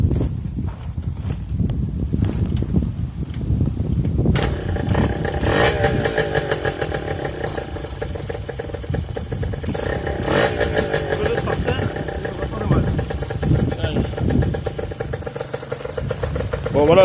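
A Yamaha Chappy moped with a four-speed manual gearbox and a mismatched exhaust pipe starts after a few seconds and runs with a steady, close, raspy two-stroke-style putter throughout.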